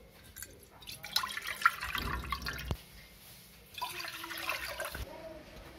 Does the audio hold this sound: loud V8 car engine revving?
no